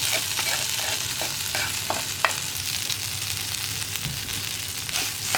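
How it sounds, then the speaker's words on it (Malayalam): Cooked carrot and plantain are stirred in a sizzling pan for Kerala mezhukkupuratti. A steady close frying hiss runs throughout, with scattered soft clicks and scrapes from stirring. "നമുക്കിനി ഇതിലേക്ക് വേവിച്ച് വെച്ചിരിക്കുന്ന ക്യാരറ്റ് നേന്ത്രക്കായും കൂടി ചേർത്ത് കൊടുക്കാം."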